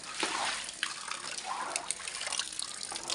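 Bath water running and draining away across a bathroom floor, a steady trickling wash with small splashes and gurgles, fairly close and continuous throughout with no voices.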